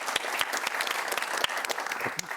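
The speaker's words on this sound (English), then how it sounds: "That was my aim to get one clap and I've got it" A live TV studio audience on a political panel show applauds, a dense patter of many claps with a few louder near hits standing out over the steady wash.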